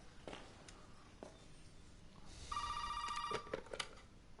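In the horror video game Resident Evil Biohazard, a telephone rings with a steady electronic trill, fairly quiet amid faint footsteps and room ambience.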